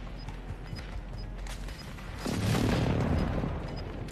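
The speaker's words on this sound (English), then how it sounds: "Friendly airstrike on the way." A friendly airstrike lands in a battle royale video game, a burst of deep rumbling explosions rolling in midway and sustaining for over a second before easing, over quieter game ambience.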